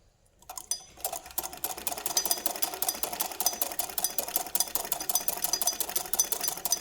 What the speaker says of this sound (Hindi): उसी सिलाई पे हम वापस सिलाई चला रहे हैं